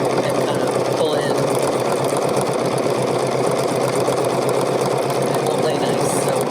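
Bernina sewing machine stitching dense, heavy decorative stitches through fabric backed by two sheets of stabilizer, a steady continuous whir throughout, close and moderately loud.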